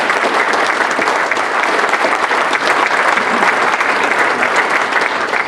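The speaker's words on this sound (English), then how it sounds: "I humbly ask you to give them a round of applause because they work hard." Sustained, dense applause from an audience honoring a hardworking team at an Ohio public event, steady and full for the whole stretch with no talking over it.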